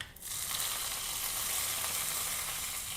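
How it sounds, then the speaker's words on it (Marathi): Mustard seeds and cumin crackling in hot ghee for a tempering, a steady close sizzle with fine popping that starts abruptly and holds evenly, with no voices. "हे आता फोडणी टाकून घेऊ आपण."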